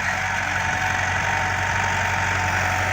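A tractor pulling a disc harrow runs steadily at close range in a farm field, a constant low rumble and drone without pause.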